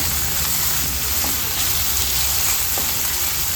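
Onion, ginger and green chillies fry in a pan with a steady, close sizzle and crackle that holds constant throughout, with no voices over it.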